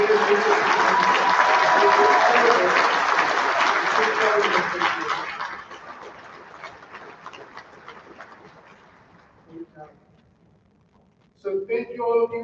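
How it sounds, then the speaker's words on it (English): Loud audience applause fills a hall at an academic awards program, a dense wash of many clapping hands that fades out over several seconds, followed by brief scattered voices and a short renewed burst near the end. "please join me in giving our MC a round of applause"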